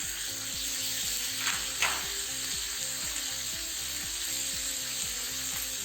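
Noodles and blanched mushrooms stir-frying for Japanese yakisoba give a steady sizzle with a couple of sharper scrapes early on, over a repeating low mechanical hum; no one speaks.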